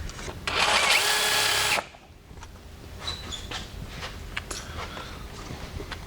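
A handheld power drill runs at high speed in a garage, a loud steady whine lasting nearly two seconds before cutting off, followed by faint shuffling and small handling noises.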